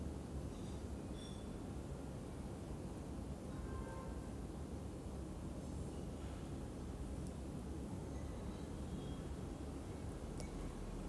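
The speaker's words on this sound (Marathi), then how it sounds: "ही ट्रेन येतेच आहे जी बोरिवलीला जाणार आहे." A train pulls into Nalasopara railway station on its way toward Borivali, a steady, broadband rumble of wheels and carriages that carries through the whole stretch with faint higher squeals on top.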